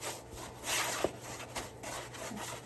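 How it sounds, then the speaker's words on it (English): Soft repeated rubbing strokes as wax is worked onto painted wood, a faint close brushing swish with a small knock partway through. "so while I have the Waverly Wax out, I'm just going to go ahead and coat it"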